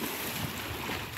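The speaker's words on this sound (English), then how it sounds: "He throws himself in the water." Milo the dog throws himself into Mark Twain Lake, sending up a steady broadband rush of churning, splashing water mixed with wind buffeting the microphone, loud and close throughout.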